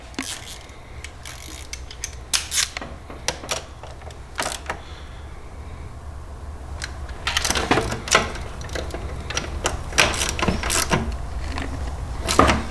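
Wrench ratcheting and metallic clicks while a bolt on a BMW N54 oil filter housing is tightened, a run of sharp close ticks and rattles over a low steady hum, loudest toward the end.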